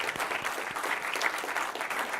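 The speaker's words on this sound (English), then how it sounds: "So a big round of applause to the ISVs and SI partners." Audience applause at a tech conference session, a steady patter of many hands clapping at moderate volume that continues throughout without letting up.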